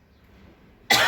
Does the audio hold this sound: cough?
yes